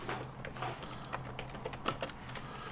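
Typing on a computer keyboard, a quick irregular patter of key clicks close by, with a few sharper taps standing out and no talking.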